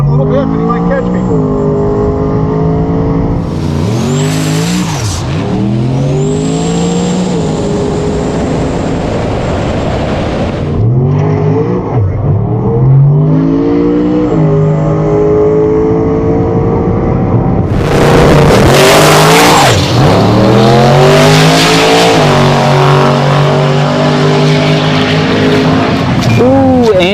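A bare-chassis C4 Corvette with an 85mm turbo and big boost drag races against a Tesla Plaid, engines screaming through repeated shifts with bursts of tire squeal, loud and close.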